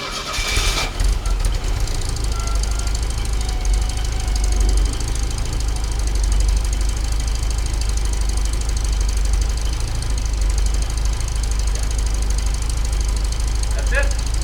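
A cold engine on the Grey Lady cranks with a brief squeal and catches at once, then settles into a steady, loud, close idle running without a break to the end.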